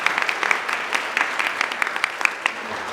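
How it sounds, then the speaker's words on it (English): Audience applause fills a conference room during an education panel event, a steady dense patter of many hands clapping throughout, moderately loud and uninterrupted. "can we give another round of applause for this?"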